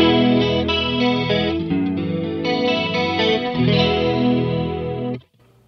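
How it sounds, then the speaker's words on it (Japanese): Electric guitar through a Free The Tone Tri Avatar TA-2H chorus pedal with the rate knob at noon, a moderate shimmering wobble over a run of picked notes and chords that rings out, then stops. "これがいわゆる普通真ん中ぐらいですよ、このトライアバターの真ん中ぐらいですよっていう揺れですね"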